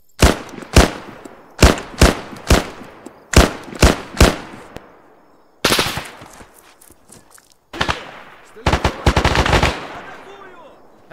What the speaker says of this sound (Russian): Стреляй в солдата!